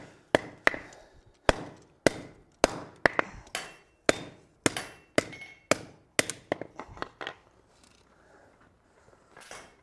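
Hammer blows ring on metal over an anvil while a rasp is forged, about fifteen sharp, evenly paced strikes close by, some doubled as rebounds, tapering off into quieter scraping at the end.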